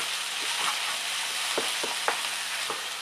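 Onions frying and sweating down in a pan for tikka masala, with an even close sizzle and several soft stirring scrapes.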